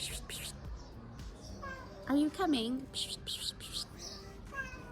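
A cat gives a short, rising and falling meow that stands out briefly in the middle, over faint room noise and quiet talking from a woman.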